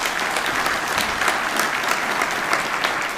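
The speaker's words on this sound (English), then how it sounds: "maybe we have a little round of applause for Susan." Steady applause from a crowd at an Engineering Week kickoff event, dense clapping that holds at an even level throughout.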